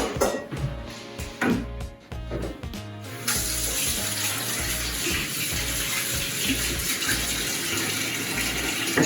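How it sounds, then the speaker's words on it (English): Water running steadily from a kitchen tap as hands are washed after handling raw lamb, following a few clattering knocks at the start; the flow is close and continuous with no talk. "Just make sure you wash your hands well because you've had raw meat in your fingers."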